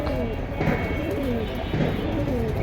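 Pigeons cooing in a crowded market, repeated low throaty coos and bubbling calls layered over steady background chatter and crowd noise, moderately close.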